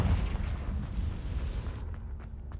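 A Confringo blasting spell erupting in Hogwarts Legacy, a heavy rumbling explosion that dominates the first couple of seconds and then fades into quieter debris crackles and pops.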